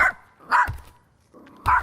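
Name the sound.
puppy barking high-pitched yaps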